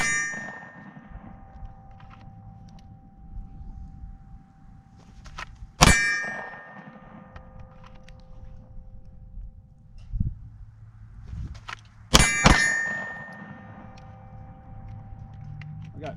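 Glock 19 pistol fired at an outdoor range: a single sharp, loud report, then a pause and two close shots in quick succession, with quieter ambient noise and faint thumps in between.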